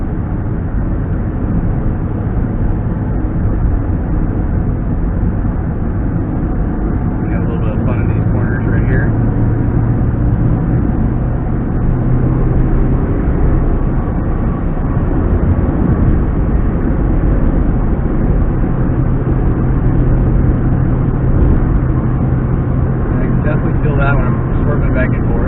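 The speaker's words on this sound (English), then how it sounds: "Let's get up here and make a U-turn." A 2013 Honda Fit Sport with an upgraded rear sway bar drives along and swings through a U-turn, a steady droning cabin rumble of engine and road noise throughout, with a person talking over it.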